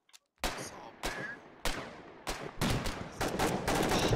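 Gunfire in the war game Foxhole, a series of sharp loud shots, several spaced about half a second apart and then quicker bursts toward the end, each with a short echoing tail.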